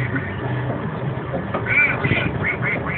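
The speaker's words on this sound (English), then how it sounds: "I can hear the ducks." Ducks at a farm park quack several times in quick succession in the second half, fairly close and nasal, over a low outdoor murmur.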